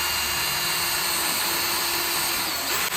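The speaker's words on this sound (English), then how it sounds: "drill holes where the marks are from the drill" A drill bores holes for a screw with a loud, continuous high whine close up, holding steady for about three seconds before a brief dip at the end.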